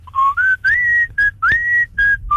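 Someone whistles the tune of an old Nokia phone ringtone live, imitating it in a car, as a short clear melody of sustained and sliding notes with brief gaps between phrases, loud and close.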